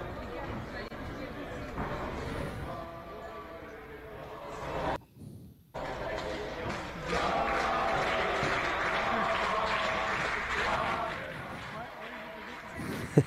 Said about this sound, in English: Sounds like a football crowd.